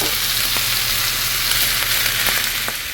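Leftovers with tofu, cucumber and soy sauce sizzle steadily in a hot pan, a loud, continuous hiss close by with a few faint scrapes from stirring, and no voices.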